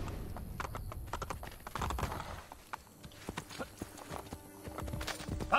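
Close, rapid clip-clop of horse hooves in Assassin's Creed Brotherhood in an uneven rhythm, with a brief pause midway before the hoofbeats resume.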